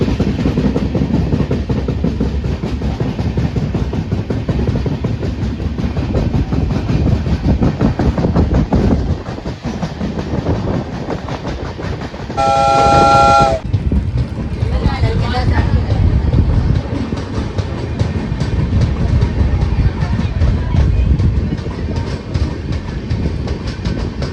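A train departing a railway station near Nasik rolls steadily along the tracks with a constant rumbling clatter, loud and close, and a short horn-like tone sounding midway.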